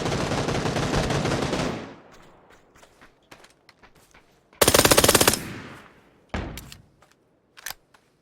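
Gunfire in the battle royale video game PUBG: Battlegrounds, with a loud sustained burst of automatic fire up close, then scattered footsteps and clicks, another short dense burst, a single sharp shotgun-like blast and a final brief volley.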